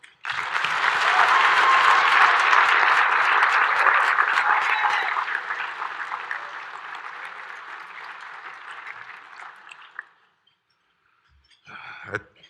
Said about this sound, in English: please join me in showing our appreciation with a round of applause for Jim and his lovely wife, Karen Holcomb.